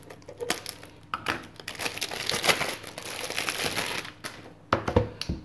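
Plastic packaging being cut open with scissors: repeated crinkling and crackling of the wrapper close up, with sharper snips and bursts near the end, no voices.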